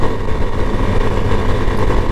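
An Italika 200Z motorcycle engine running with a steady, loud, close-up drone and a dense low rumble, holding an even pitch without pauses throughout.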